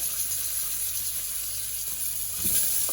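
Onions for a sardine dish sizzle in a pan with a steady, bright hiss that fills the whole moment, close up and constant, with a small clatter near the end.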